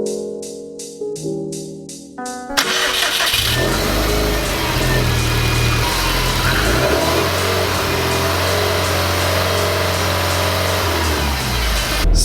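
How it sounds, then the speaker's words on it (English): A 500 hp Subaru STI cranks and fires, then settles into a loud, steady, close-up running note with a deep low drone, after a few seconds of rhythmic starter pulses. "Then we'll start the car up and see what happens."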